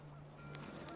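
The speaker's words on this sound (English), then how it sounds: "The wind picked up, and panicked geese appeared and quickly went." Panicked geese honk in the video game What Remains of Edith Finch, a short burst of several overlapping nasal honks against a low steady hum, faint and without speech.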